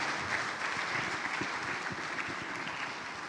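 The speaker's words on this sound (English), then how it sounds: "Please join me in giving a big applause to our panelists." Conference audience applauding panelists after an e-commerce panel discussion: a short, even burst of many hands clapping at moderate distance, with no speech over it.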